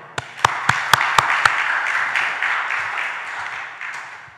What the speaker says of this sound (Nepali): हामी सबैजना एकचोटि परमेश्वरको निम्ति ताली बजाउनेछौँ